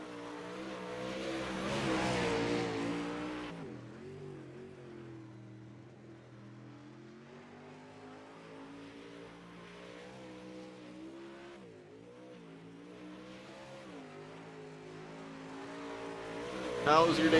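Race car number 10 running on a dirt track during track prep, engine droning with rising and falling pitch, loudest early and again at the end, with a faint voice over the engine.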